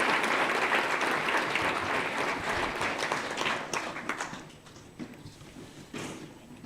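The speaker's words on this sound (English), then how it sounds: "Let's give them a round of applause" Audience applause at a junior school prize giving, a dense burst of many hands clapping that thins out and fades toward the end.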